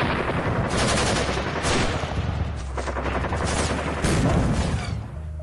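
Loud, sustained gunfire with rapid machine-gun volleys and overlapping shots, continuous for several seconds with no voices.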